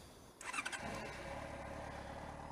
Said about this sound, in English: I'll just show you the startup sequence. Here we go. I'll just start her up for you.